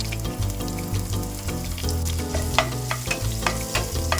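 Green chillies and asafoetida sauté in hot oil, a steady loud sizzle with frequent scrapes and clicks of stirring for Kutchi-style dabeli masala.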